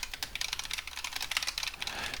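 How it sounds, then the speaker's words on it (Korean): Computer keyboard typing picked up by a Razer BlackShark V2 X headset mic, a fast irregular stream of light clicky keystrokes, fairly quiet and close, alone with no talk. "지금은 키보드를 타건하면서 녹음을 하고 있습니다"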